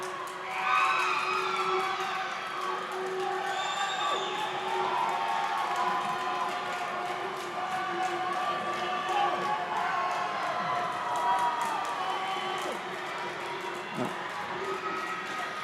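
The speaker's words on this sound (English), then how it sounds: "hopefully you can hear the cheering" A swim meet crowd at an age-group championship cheers and whoops for a swimmer going for a record, a sustained roar of shouts from the stands under a commentator's voice.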